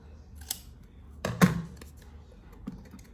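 Scissors snip a length of tape, a few sharp close clicks with one louder cut in the middle over a quiet room.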